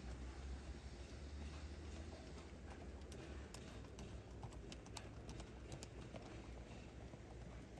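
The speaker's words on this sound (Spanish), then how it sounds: "Se lo va trotando otra vez, estrochando de aquí para allá." Hoofbeats of a gelded saddle horse trotting, a steady rhythmic clip-clop at moderate distance over a constant low background rumble, with no speech.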